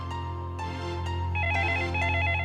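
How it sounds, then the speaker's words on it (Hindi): A telephone rings in a household scene, a steady repeating electronic ring that holds through the whole moment over a low hum, with no one talking. "देखिए, उन्हीं का फोन होगा"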